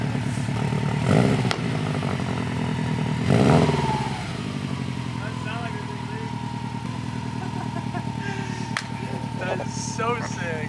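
A 2011-2014 Subaru STI fitted with an Invidia N1 race single-exit cat-back exhaust idles with a deep, burbling rumble, blipped twice into loud, brief revs before settling back, as people talk nearby.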